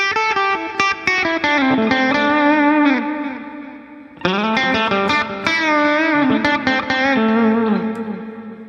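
A blues lead line on electric guitar rings out with reverb and delay trailing each note, loud and close, in two phrases split by a short pause, with no voices.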